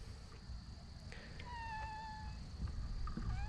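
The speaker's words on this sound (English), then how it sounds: "that's my cat" A cat meows faintly a few times, in drawn-out rising and falling calls, over a constant low outdoor rumble at a gravel digging spot in Crater of Diamonds State Park.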